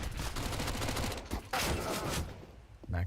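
Pistol shots in a Counter-Strike match at BLAST Premier Fall Groups 2023, a dense run of rapid gunfire loud and continuous, with a brief gap midway and ambient game noise throughout.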